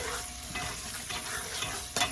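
Shrimp fried rice with chicken and sweet onions is stirred in a hot pan, giving a continuous close sizzle broken by a few scraping strokes, with no talking.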